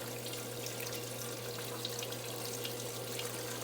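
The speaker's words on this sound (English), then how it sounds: "You see the water dripping down." Water trickles down through the holes of a vertical tower garden, a steady soft splashing wash sitting under a constant low pump hum, with no talking.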